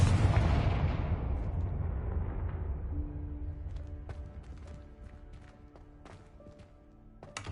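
A Confringo spell explosion in the video game Hogwarts Legacy bursts loudly at the start and rumbles away over several seconds, followed by scattered faint clicks and a low steady hum.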